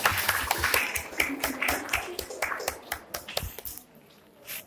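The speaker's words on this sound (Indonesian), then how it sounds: "Beri tepuk tangan dulu untuk kelompok." Classroom applause for a student group after their presentation, a burst of scattered, uneven claps from a modest number of people that thins out toward the end, heard fairly close in a room.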